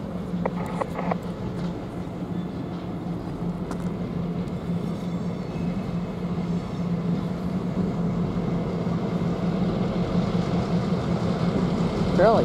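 A CN freight train led by GP38 diesel locomotives rumbles steadily past with a low engine drone and rolling wheel noise throughout, growing slightly louder toward the end.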